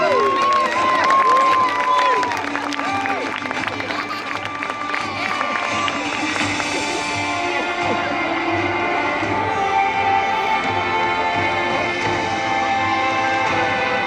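Crowd cheering for the Saxon English army at a Battle of Hastings 1066 re-enactment, a broad outdoor roar of voices and shouts with a loud announcer speaking over it throughout.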